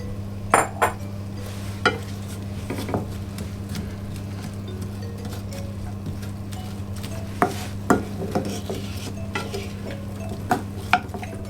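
Apples being added to a cooking pan and stirred, with scattered clinks and scrapes of a utensil against the pan over a steady low hum, fairly close.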